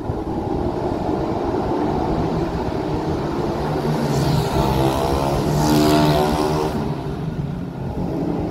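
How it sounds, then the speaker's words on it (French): Small motorcycles ridden by children on a karting track, their engines buzzing steadily, with one machine swelling louder as it passes close before fading back into the continuous drone. "Il y a des motos aussi. Des petites motos."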